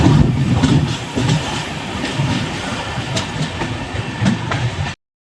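Cholan Express passenger train running on the rails, a steady loud rumble of wheels and carriages with faint clickety-clack beats, continuous and close for about five seconds before cutting off.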